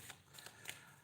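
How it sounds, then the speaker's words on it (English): Soft riffling and flicking of a Rider-Waite tarot deck being shuffled during a live reading, a few faint papery bursts close by with no talking. "We're just going to shuffle the Rider-Waite and see what comes out."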